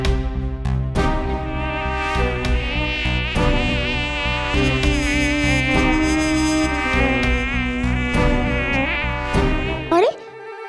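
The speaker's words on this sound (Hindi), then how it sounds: "ये मानव को मच्छर काटता हुआ दिखा रहा है" Exaggerated, loud mosquito buzzing with a whining, wavering drone that shifts in pitch, layered with musical tones and sharp effects, then breaking off abruptly near the end.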